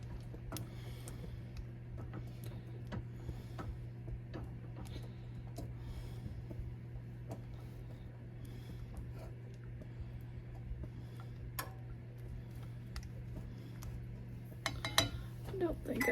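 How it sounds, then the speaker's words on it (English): A utensil stirs melting chocolate in a pan for Turtle cookies, giving soft irregular scrapes and light clinks against the metal over a steady low kitchen hum, with a few louder knocks near the end. "we're just melting these down and making sure to stir it so it doesn't stick"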